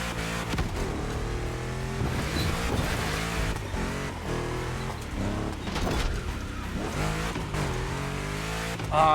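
A gymkhana car labours up a volcano hill-climb road, its engine droning loud and steady with revving surges and gear changes throughout, a brief rise at the very end.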